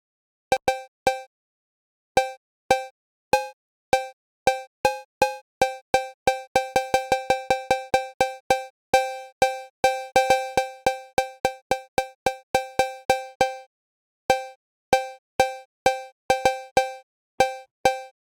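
Synthesized cowbell hits made in Logic Pro play in a rhythmic pattern, bright and metallic, speeding into a quick run midway before settling back; no voices.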